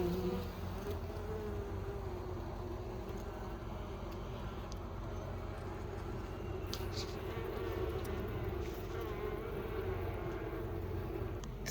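Honeybees hum steadily at an open hive, a continuous close buzz with a faint low drone beneath and a few small clicks of frame handling.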